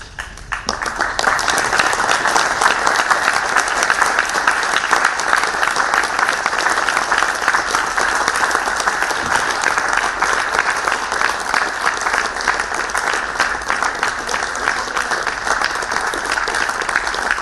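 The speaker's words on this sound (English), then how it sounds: "give a big round of applause to your loved ones" Graduates at a Hult Shanghai graduation ceremony give a big round of applause to their loved ones; loud, dense, continuous clapping from a large crowd that keeps going steadily from start to finish.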